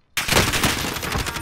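Rapid gunfire in Call of Duty: Modern Warfare, which bursts in after a brief silence as a loud, dense, continuous rattle of close shots that keeps its intensity to the end.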